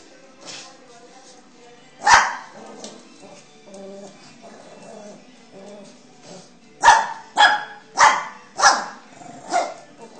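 A dog barks in a short burst of sharp, loud yips near the start, then a rapid run of five or six barks toward the end, with some background voice between.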